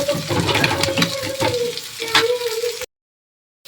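Chicken liver fries in a pan with a steady close sizzle, punctuated by stirring scrapes and flipping clatter, before cutting to silence near the end.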